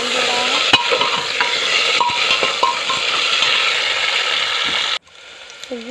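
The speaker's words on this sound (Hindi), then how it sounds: "तो मेरा कटहल फ्राई हो रहा है।" Jackfruit pieces fry in a pan of oil, a loud, close, steady sizzle broken by scrapes and clinks of a utensil, then cutting out abruptly near the end to a quiet room.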